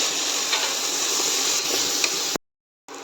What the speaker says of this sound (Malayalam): ഇതിലൊരു 1 ടീസ്പൂൺ ഉപ്പും കൂടെ ചേർത്ത് കൊടുത്തിട്ട് ഇനി നല്ലപോലെ വഴറ്റാം